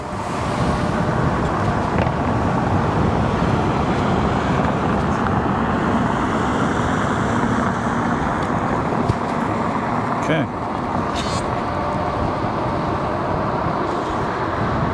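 An Inmotion V13 electric unicycle rides over pavers, giving steady loud rolling road noise with wind buffeting and a brief clatter partway through, while a rider talks over it.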